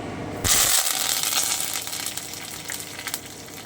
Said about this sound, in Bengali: সর্ষেটা দিয়ে দিচ্ছি কালো সর্ষে মিষ্টি ভেজে নিচ্ছি এবারে আমি কারি পাতাটা দিয়ে দিচ্ছি